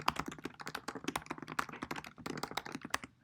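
Quick typing on a computer keyboard as a name and description are entered: a dense, steady patter of close key clicks with no pauses, fairly loud and alone.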